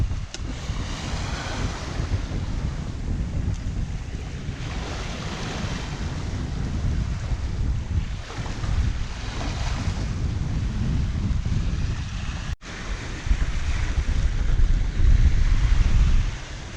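A Hallberg-Rassy 54 sailboat is under sail near Huntington Bay, New York, with steady wind rushing over the microphone and waves washing against the hull. A brief dropout comes before the gusts grow louder.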